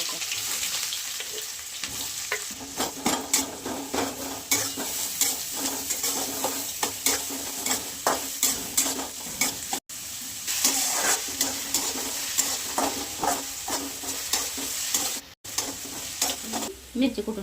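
Mustard seeds, cumin and onion fry in hot oil with a loud, continuous sizzle and crackle, broken up by frequent stirring scrapes and scattered sharp pops close by.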